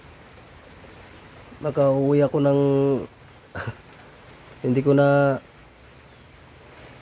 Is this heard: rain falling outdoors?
yes